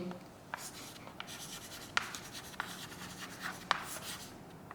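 A pen writes by hand on paper during a French spelling lesson, giving soft scratchy strokes and a few sharper taps, each mark short and close.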